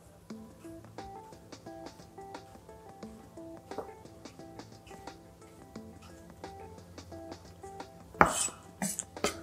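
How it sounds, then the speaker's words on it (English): A knife slices cucumber finely against a cutting board in a steady run of quick, light taps, close and soft, with a louder clatter near the end over faint background music. "Using our claw, we're just gonna slice nice and fine, or as fine as you can get,"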